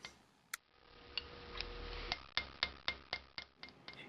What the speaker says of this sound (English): Use many overlapping hammer blows to walk your chisel down the line.